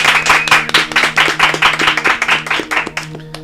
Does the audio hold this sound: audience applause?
yes